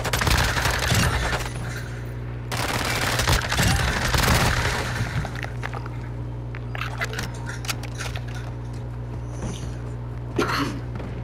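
Automatic gunfire crackles in Call of Duty Modern Warfare 2, rapid bursts packed into the opening seconds over a steady game hum, then sparser shots scattered across the rest.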